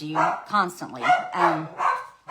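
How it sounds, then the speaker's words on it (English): A dog barking in the background of a talk, several quick barks and yips in a row, fairly close and loud, overlapping with a man's speech. "I'm sorry about the dog."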